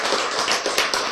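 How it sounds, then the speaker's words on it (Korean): A lecture audience breaks into applause, a dense wash of many hands clapping close and steady for about a second, with no voice over it. "박수!"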